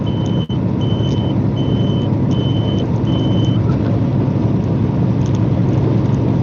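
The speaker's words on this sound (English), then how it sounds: "That's the beeping that you guys just heard if you're not truck drivers." A truck scale bypass signal beeps steadily five times in an even rhythm over the constant rumble of a truck engine on the road in New Mexico.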